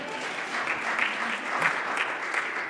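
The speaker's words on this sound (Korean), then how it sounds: "여러분 박수 한번 보내드릴게요" A church congregation gives steady, moderate applause, even and sustained throughout at a fairly soft level without voices on top.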